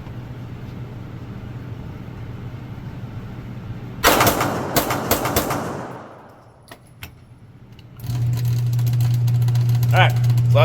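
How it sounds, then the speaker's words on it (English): Rapid shots from a Glock 17 pistol fired fast at about 10 yards on an outdoor range, a loud burst of closely spaced cracks for a couple of seconds, then a few separate reports, with a steady engine-like hum in the background. "All right, so that's the Glock 17. Again, we're shooting fast."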